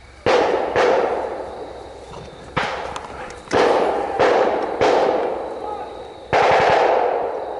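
Blank rounds fired in a WWII battle re-enactment outdoors near trees and a road, loud repeated bursts and single shots in uneven clusters over several seconds, with faint voices between.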